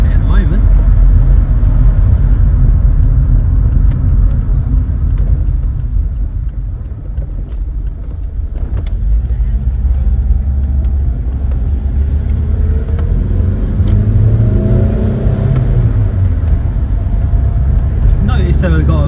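A Vauxhall Cavalier car driving on the road, heard from inside as a steady loud engine and road rumble with a few faint knocks and rattles, constant throughout.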